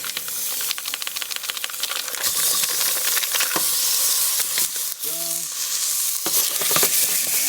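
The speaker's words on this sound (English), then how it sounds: "now that we got the pot smoking here, I'm going to take the meat and shake it in there" Meat shaken into a smoking-hot pot bursts into a loud, dense sizzle with steamy hiss, sharp crackles and utensil knocks, plus a brief tonal clink midway, all close and without talk.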